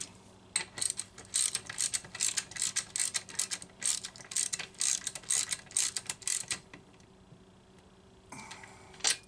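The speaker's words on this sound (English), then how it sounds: "Make sure she's threading in easy before you go at it with the ratchet." A socket ratchet tightens a part on a McCulloch Mini Mac 30 chainsaw during maintenance. Close, crisp bursts of rapid clicking repeat with short pauses, then a brief quiet spell before a last few clicks.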